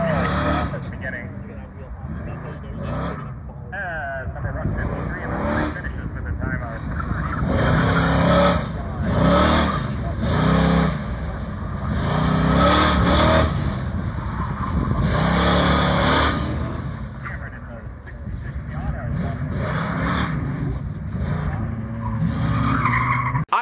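Cars at an SCCA autocross event in New York tearing through the course, engines revving and tires squealing in long skidding bursts at moderate distance, with a person talking throughout.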